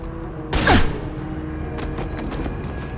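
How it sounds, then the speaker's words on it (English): A Krogan shotgun fires once in Mass Effect 2, a single loud, close blast with a short decaying tail over steady game ambience. "A Krogan shotgun."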